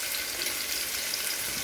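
Chopped onion frying in hot oil with garlic over a raised flame, a brief, steady, close sizzle without pauses.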